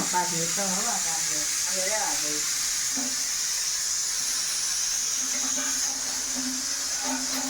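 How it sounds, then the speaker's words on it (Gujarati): A pressure cooker of potatoes releases steam in a steady, loud hiss that continues throughout, while people talk over it. "જો હવા નીકળે છે કુકરમાંથી તમે જોવો છો"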